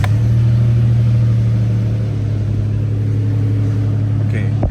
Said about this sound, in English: So this will be the first time letting the motor run for more than 30 seconds.